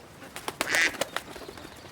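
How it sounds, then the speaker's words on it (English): A few loud duck quacks from nearby birds outdoors, short harsh calls in an irregular burst with one longer, louder call in the middle, standing alone without talk. "now the ducks get loud"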